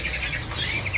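Short bright chirps and tweets from a caged murai Irian (magpie-robin) at a bird market, a few quick repeated notes close by over a low background hum.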